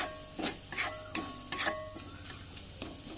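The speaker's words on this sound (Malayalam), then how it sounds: "പച്ച സ്മെല്ലും മാറുന്നേരം ഒന്ന് വഴറ്റി കൊടുക്കാം" Coriander powder and other ground spices are sautéed in a pan for a Kerala-style chickpea thoran, with a spoon scraping and stirring in repeated strokes over a soft, steady sizzle, close up.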